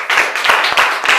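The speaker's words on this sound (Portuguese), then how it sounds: "Aplausos, Senhor." Church congregation clapping in a steady rhythmic beat during a worship service, loud and close, several even claps filling the space without talking.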